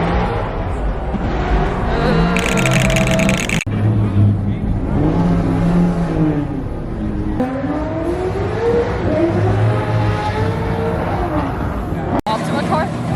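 A professional drift car at the SEMA track revs its engine loudly and close, the pitch rising and falling in long sweeps over several revs while people talk over it.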